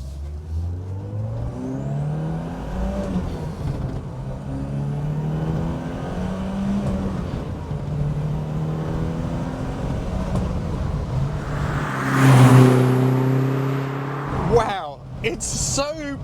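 BMW 2002 Turbo engine pulling hard, its rising and falling drone stepping up through the gears, loud and close, with a sharp surge of revs near the end; a voice talks over part of it.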